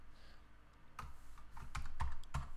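Several close keystrokes on a computer keyboard, sparse taps at first, then a quicker cluster of louder clicks toward the end, with no talking over them.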